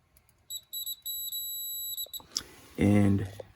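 A multimeter set to continuity gives steady high-pitched beeps, with several short chirps and one longer tone, while a faulty furnace that is not heating is run during HVAC troubleshooting. A louder, lower rumbling noise and a voice-like sound follow near the end.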